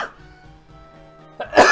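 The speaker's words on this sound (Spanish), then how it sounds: "siempre que me pongo a grabar me pongo a toser" A single muffled cough from a person at the start, followed by a low hum and a sharper burst of breath or throat noise near the end, close to the microphone with no talk.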